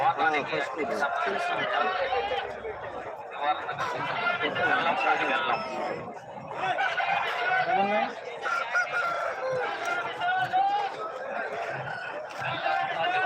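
Roosters crow repeatedly and hens cluck among loud, busy crowd chatter, with people talking throughout.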